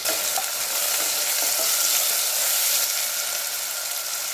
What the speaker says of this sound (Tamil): மீடியம் ஃப்ளேம்லேயே வச்சுக்கோங்க வெங்காயம் நல்லா வதங்கி வரணும்